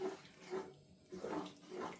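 Water poured into a pan of spaghetti bolognese mince with tomato puree, heard as short splashing bursts in separate pours, fairly close and alone.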